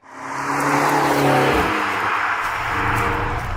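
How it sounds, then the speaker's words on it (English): A 2023 McLaren GT drives along Welsh B roads, its engine a loud, steady drone close to the listener with a slight rise in pitch, no talk. "Let's now take the GT out onto some beautiful Welsh B roads to see what it's like to drive."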